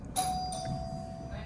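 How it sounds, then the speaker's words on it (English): A single bright electronic chime rings out from a hotel room doorbell, striking twice and then sustaining one clear ringing tone that slowly fades, heard close over faint room ambience. "that's the doorbell"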